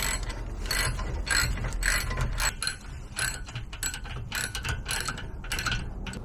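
Rapid metallic ratcheting as a wrench tightens brake caliper bolts on a BMW 325i E46 during rear brake work, a close, steady clicking in several bursts with brief pauses.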